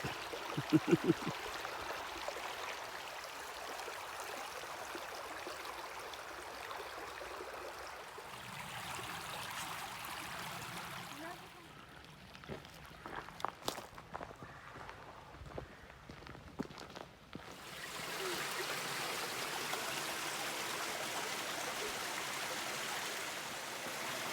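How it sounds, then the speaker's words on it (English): Small stream flowing through a state park, with a steady broadband water rush, near and continuous, briefly dropping away mid-clip with a few scattered footsteps or knocks before the flow returns. "This is nice. Nice little stream."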